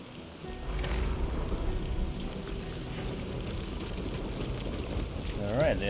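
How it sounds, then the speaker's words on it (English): Steady rain hissing in the video game Death Stranding 2: On The Beach, a constant broadband wash with a low rumble underneath, holding even throughout and swelling slightly at the end, with a faint voice-like tone near the close. "Ah, great, it's raining."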